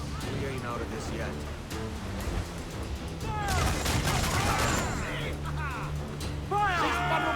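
Mortar and cannon fire during a naval battle in the video game Black Flag, heavy booming volleys and rumbling blasts mixed with sea noise, playing under raised voices of crew talking.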